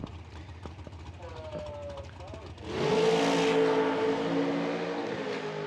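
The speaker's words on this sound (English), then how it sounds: "Nitro funny cars." A nitro funny car thunders to life at an IHRA drag race, its engine abruptly erupting into a loud, sustained roar after a stretch of quieter ambient noise and commentary, then droning on at full volume.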